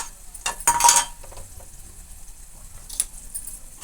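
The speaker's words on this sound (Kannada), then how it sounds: "ಸ್ವಲ್ಪ ಮಿಕ್ಸ್ ಮಾಡೋಣ್ರಿ" Chilli powder stirred into hot oil in a metal pan for a drumstick curry: a burst of scraping, clinking spoon-on-pan strokes near the start, then quiet scraping and faint sizzling, close and moderately loud with no talking.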